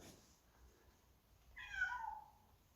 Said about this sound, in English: The cat's come in.